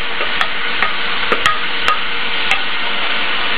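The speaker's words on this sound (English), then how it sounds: "I'm just going to mix it all in, get everything incorporated." Black beans stirred into a sizzling mirepoix base in a pot, with a steady sizzling hiss and a few sharp scraping clicks of the utensil at irregular intervals, close and without talk.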